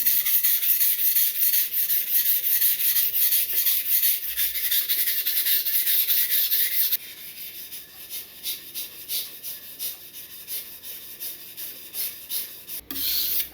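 Blade being sharpened on a stone, a dry, rasping rub in steady back-and-forth strokes, dense and continuous at first, then lighter, distinct passes, close and alone.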